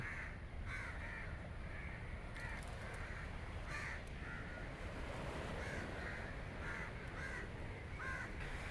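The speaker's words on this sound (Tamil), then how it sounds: "பறவைகளை பாரு நவீன மரத்தில் தூங்கிட்டு இருந்த பறவைகளெல்லாம் இப்போ விடிஞ்சிடுச்சுல எழுப்பி பறக்க ஆரம்பிச்சிட்டு" Crows cawing repeatedly at dawn near a beach, with harsh calls coming from several directions, some near and some distant, over a steady wash of surf and wind.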